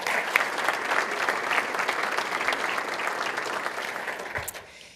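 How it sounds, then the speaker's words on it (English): At an awards breakfast held at the Florian Gardens, a room full of guests applauds the catering staff with a steady wash of clapping that gradually fades toward the end. "let's give them a round of applause too."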